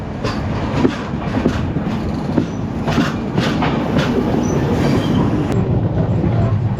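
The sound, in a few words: Mandovi Express train running on the tracks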